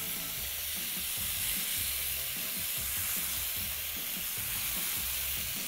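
Chicken pieces go back into a hot pan and sizzle loudly and continuously, with faint stirring knocks beneath the steady frying hiss.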